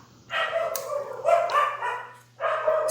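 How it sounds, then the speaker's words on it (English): A dog barks in a few drawn-out, yowling bursts nearby, loud and somewhat howl-like, with short gaps between them over a faint steady hum. "sorry about the dog barking"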